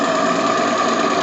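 A steam-driven donkey pump runs under load at working pressure, a fast, dense mechanical chatter with a steady, even pulse that carries uniformly and loudly through the whole moment.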